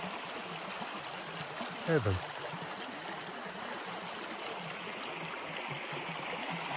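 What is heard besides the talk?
river water flowing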